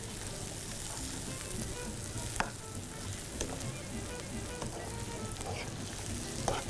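Onions sizzling and frying in a pan with garlic and ginger paste, a steady crackle with a few sharp spatula knocks against the pan, no talking.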